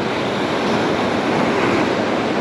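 Rough, whitecapped sea surf crashes against a shallow rocky boulder shore, a loud continuous roar of churning water and spray with no gaps or talk.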